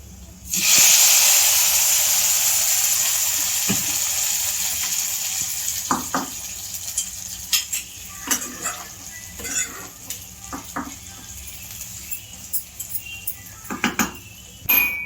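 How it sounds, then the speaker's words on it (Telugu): A loud burst of sizzling as a curry-leaf tempering hits hot oil for sambar, the hiss gradually fading while a spoon clinks and scrapes in the pan. "ఇప్పుడు బజ్జీల సాంబార్లో పోపు పెట్టేసుకుంటున్నాం"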